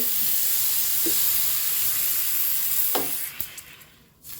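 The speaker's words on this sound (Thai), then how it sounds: "ผัดพริกกัน ผัดพริกสักพักนึงให้พริกหอม" Chili stir-frying in a pan for a Thai coconut-milk curry with pork and young coconut shoots: a continuous loud close sizzle with a couple of stirring scrapes, the hiss dropping away near the end.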